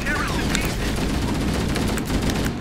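A stationary mounted gun fires a continuous, loud, dense stream of shots in Halo: Combat Evolved Anniversary, a rapid rattle that holds steady throughout.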